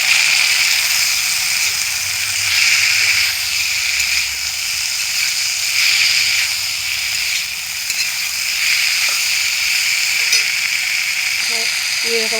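Small fish frying uncovered in a pan with onions, a loud continuous sizzle and hiss with occasional scraping as the pieces are stirred, close by.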